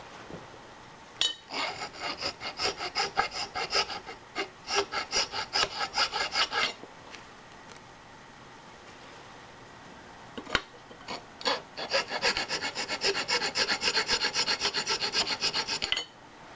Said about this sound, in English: I'm going to deburr that real quick like.